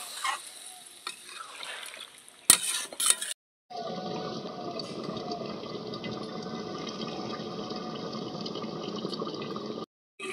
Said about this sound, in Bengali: এখন পরিমাণ মতন একটু গরম জল দিয়ে দেবো।